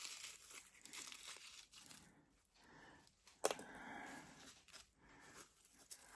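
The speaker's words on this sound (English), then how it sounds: "just scrunch some leaf litter in" Dry leaf litter is scrunched and pressed into a tarantula enclosure, giving faint, close crinkling and crackling with one sharper crunch midway.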